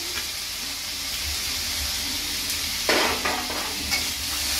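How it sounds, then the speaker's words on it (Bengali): Potatoes frying in a pan as chopped onion is added, giving a steady close sizzle with a louder burst of crackling and stirring partway through. "আলুটা একটু ভাজা ভাজা হয়ে গেছে, এবার তার মধ্যে দিয়ে দেবো হচ্ছে হলো কেটে রাখা পেঁয়াজ"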